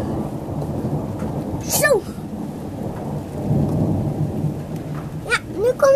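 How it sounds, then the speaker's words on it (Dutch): Rumbling thunder with steady rain during a thunderstorm in Spijkenisse, low and rolling throughout, with occasional sharp high squeaks over the wash and a brief spoken word. "Laatste onweer."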